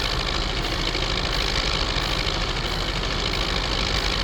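A tractor engine in Farming Simulator 19 idles and rumbles continuously with a low, knocking throb, loud and close, with no voices.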